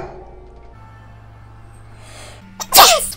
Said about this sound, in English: I sneeze like a rugrat.